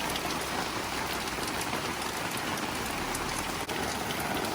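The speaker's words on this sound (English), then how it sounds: "That's been about 10 minutes and that's still raining" Heavy rain pours down steadily outside a camper van, a dense, even hiss of drops drumming on the surface with no letup and no voices.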